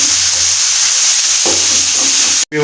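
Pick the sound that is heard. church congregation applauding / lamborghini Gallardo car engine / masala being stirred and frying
masala being stirred and frying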